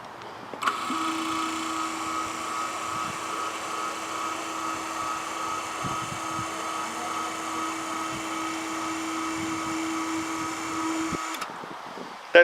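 The hydraulic power pack of a small foot-by-two-foot lift table starts up, runs with a steady electric motor hum and pump whine for about ten seconds, then cuts off with a click.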